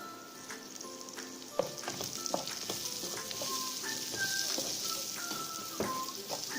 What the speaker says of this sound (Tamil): இப்போ கருவேப்பிலை ஆட் பண்ணிக்கலாம்.